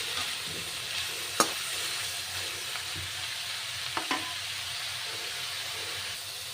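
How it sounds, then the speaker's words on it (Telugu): Eggplant curry, Andhra style, fries in a pan with a constant hiss and sizzle, broken by a few sharp scrapes and taps as it is stirred. "వంకాయలు వేసుకుని మంచిగా కలుపుకోవాలి"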